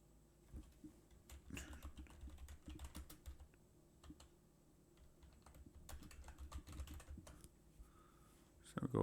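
Keys on a computer keyboard are typed in soft, irregular bursts of clicking, quiet and close, with a brief louder knock at the end and no talking.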